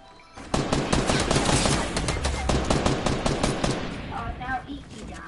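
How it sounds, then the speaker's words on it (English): Machine-gun fire in Fortnite, loud rapid bursts of automatic shots starting abruptly and rattling on for several seconds before thinning out into scattered sounds. "Why is this dude named Eddie shooting at me?"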